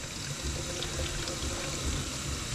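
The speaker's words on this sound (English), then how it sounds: "We'll fill it with water." Water pours steadily into a bottle being filled on a service call, a continuous close, splashing gush that holds even throughout with no voices.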